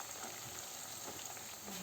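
Skinless peanuts fry and crackle in a pan while being stirred, a steady close sizzle with soft scraping under it and no talk.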